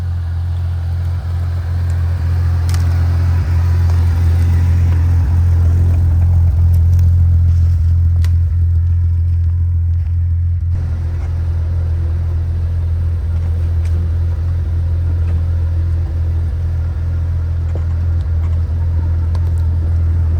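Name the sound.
Jeep driving on a backyard trail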